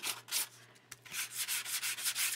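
Sanding block rubbed along a rough-cut paper edge: quick, rhythmic scraping strokes, close and fairly quiet, with a short pause near the middle before the strokes resume faster.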